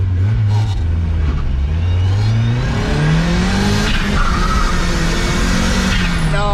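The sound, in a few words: Mazda Miata car driving and accelerating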